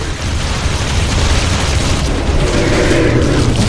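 A base wall in The Riftbreaker explodes with a loud, sustained rumbling boom and crumbling debris, continuing steadily across the moment.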